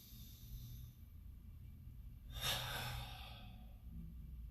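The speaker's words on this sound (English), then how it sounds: "So we're going to just a deep breath in." One slow, deep inhalation of breath midway, a soft airy rush rising and fading against a quiet room hum.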